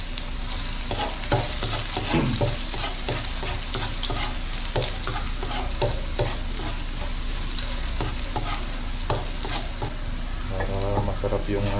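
Garlic frying and being stirred in a pan, a loud constant sizzle punctuated by repeated clicking scrapes of a utensil throughout, with no talking.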